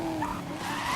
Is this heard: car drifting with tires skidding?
yes